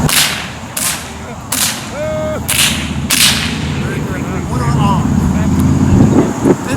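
Civil War reenactment infantry firing musket volleys outdoors at a historical weekend event: several sharp loud cracks in quick succession over the first few seconds, then crowd murmur and ambient noise with a voice heard briefly.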